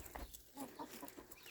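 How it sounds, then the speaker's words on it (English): Chickens clucking softly nearby, a few short, quiet clucks in quick succession. "Chickens like digging for buried treasure."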